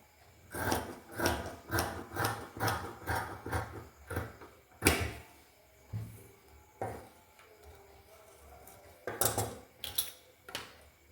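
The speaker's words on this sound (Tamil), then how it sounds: "இதை கட் பண்ணி எடுத்துக்குவோம்." Scissors cutting through a fabric piece during tailoring, a run of crisp rhythmic snips repeating in close, fairly loud bursts with short pauses between, no voices over them.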